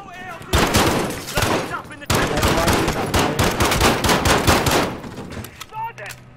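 Call of Duty Modern Warfare gunfire during an indoor hostage raid: sustained automatic bursts of loud, close shots in two long volleys separated by a short pause, then scattered single cracks tapering off.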